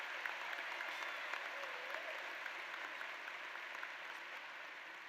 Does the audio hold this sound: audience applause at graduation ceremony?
yes